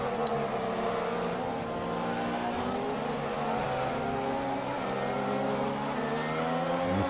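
A Formula 1 car in the F1 2016 racing game accelerates with a loud, continuous engine whine that rises steadily in pitch through the gears, close and alone without talk.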